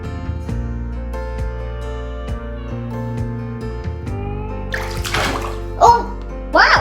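Purple glasses dropped into water during a kids' float-or-sink density experiment: a splash and watery sloshing near the end, following steady music-like tones, with faint voices.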